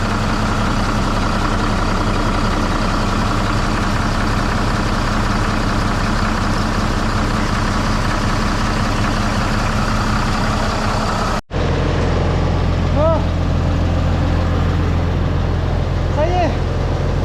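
A Valtra T151e tractor engine idles with a steady, close, low diesel rumble that continues unchanged. After a brief cut partway through, a voice talks over the same idle.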